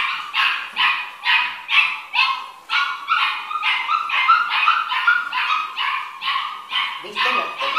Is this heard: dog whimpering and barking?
yes